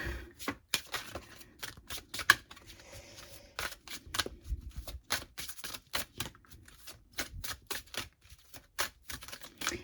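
Tarot cards are shuffled up close in a long run of quick, crisp riffling snaps and slaps, loud in the quiet with no talking.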